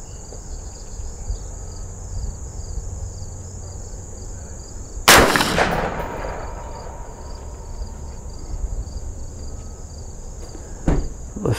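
A single sharp rifle shot fired from a bench rest outdoors, a loud crack with a short decaying tail over a constant chorus of crickets, followed later by a fainter click or thump.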